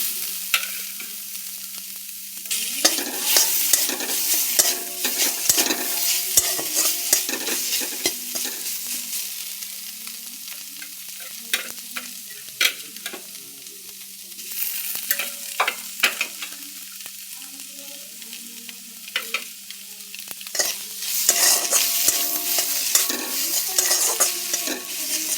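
Pre-fried fish goes back into a hot pan of oil on lowered gas and is stirred, with busy sizzling and frying under repeated scraping strokes of a spoon, close and steady with no talk.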